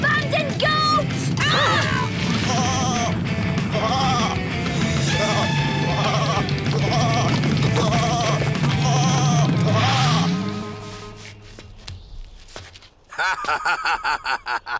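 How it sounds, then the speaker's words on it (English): Cartoon goats bleat repeatedly and loudly on a mountainside, a dense overlapping chorus of wavering cries that runs for about ten seconds before cutting to quieter sounds and a burst of rapid clattering. "Abandoned goats!"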